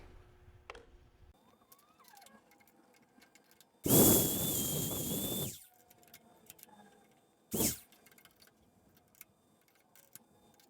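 A magnetic drill with a twist bit adapter bores into steel plate, giving one loud, sustained grinding burst of about a second and a half, then a brief second burst, with quiet handling noise between.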